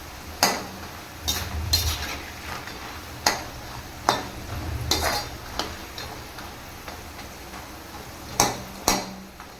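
A ladle stirs and separates masala peanuts frying in a pan. Sharp metallic scrapes and taps come at irregular intervals over a soft sizzle, close and clear.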